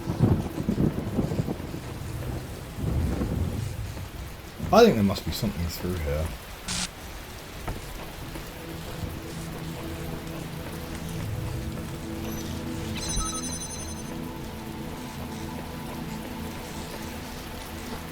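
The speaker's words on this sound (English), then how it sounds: "It's gone rainy again." Steady rain falls in the video game The Talos Principle, a soft continuous patter with gusts of wind, while someone talks over it at the start.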